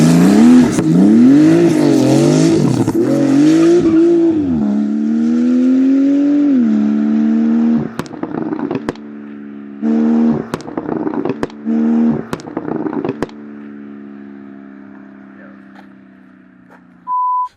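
Porsche 991.1 Turbo with an aftermarket exhaust and diverter valves, revving hard and loud at first, then settling into a steady hum broken by several quick blips of the throttle.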